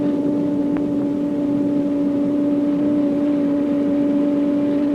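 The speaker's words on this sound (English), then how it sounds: "I'm now going to increase the wind speed to about 100 miles per hour." Wind tunnel fan running up toward about 100 mph during drag experiments: a loud, steady mechanical drone with strong sustained tones, constant throughout, no voices.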